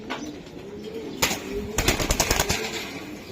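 A red saddle racing pigeon hen, handled close by, gives brief bursts of wing fluttering and scuffling in a few quick flurries, with no clear cooing.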